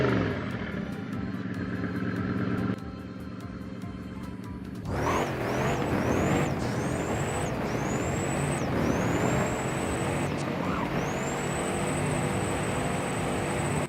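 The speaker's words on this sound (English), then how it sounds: "the best sounding from this, I would say, would just be the Noble M600" Engine of a Noble M600 Carbon Sport in the Roblox game Driving Empire, a steady loud drone that jumps after a short lull into repeated rising revs with quick gear-change dips, played alone.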